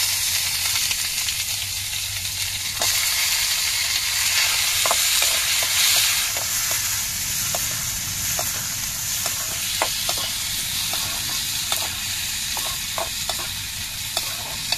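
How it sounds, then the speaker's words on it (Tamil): Onions frying for an egg curry gravy with bay leaf, cloves and cinnamon sizzle steadily in a pan for the whole stretch, with scattered clicks of a spoon stirring through the constant hiss. "வெங்காயம் நல்லா வதங்கிருச்சு."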